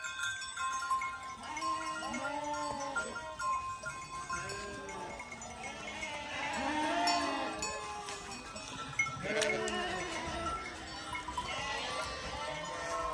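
Sheep and goats, with kids among them, bleat over and over on a cold village farm, many overlapping calls near and far, with a bell clinking and a voice calling to the flock in places.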